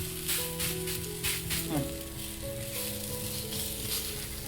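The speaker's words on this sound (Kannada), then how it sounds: "ಇವಾಗ ತವಾ ಕೂಡ ಬಿಸಿಗಿಟ್ಟಿದ್ದೀನಿ. ನೋಡಿ, ಹೆಂಚು ಚೆನ್ನಾಗಿ ಕಾದಿದೆ. ಇವಾಗ ಮಾಡಿರೋ ರೊಟ್ಟಿನ ಹಾಕೋಣ." Radish roti cooking on a hot tawa griddle, a faint steady sizzle with a quiet background hum and light clatter, no speech.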